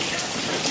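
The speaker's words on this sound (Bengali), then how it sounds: "দেখো কেমন বৃষ্টি হচ্ছে" Rain falling steadily on a morning, a dense, even patter of drops close by that fills the whole short moment without pause.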